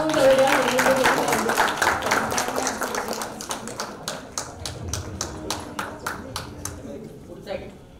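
An audience at a women's award ceremony in Nashik claps, first in dense, loud applause with voices, then thinning to a few sharp, separate claps before fading out.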